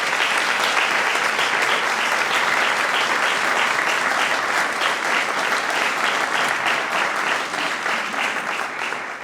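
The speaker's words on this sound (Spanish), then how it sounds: "Así que pido un aplauso para ellos." Sustained, dense applause from an audience at a presentation of a study on the Canarian dog, loud and even throughout before tapering slightly at the end.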